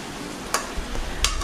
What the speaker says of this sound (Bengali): এটাকে ভালোভাবে নেড়ে নেড়ে কষাতে হবে যাতে করে মশলাটা কচুর মধ্যে ভালোভাবে ঢুকে